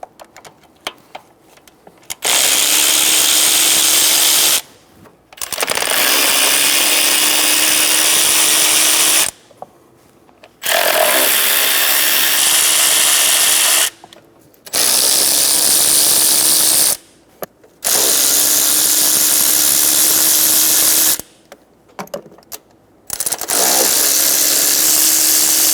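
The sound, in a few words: 10mm socket removing intake bolts on a Chevrolet Silverado V8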